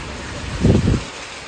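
Heavy rain pours down in a steady, close hiss, with a brief low rumble swelling midway through the short stretch.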